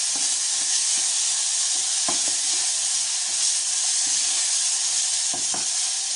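Tomatoes fry for a baby meal in a hot pan, giving a loud, steady sizzle throughout with a few faint stirring clicks.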